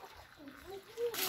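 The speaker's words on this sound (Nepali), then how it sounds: "बुवा पानी हालिदिन्छ" Water splashing during a family bath, a short pour and splatter that turns louder near the end, heard under a voice and adult talk.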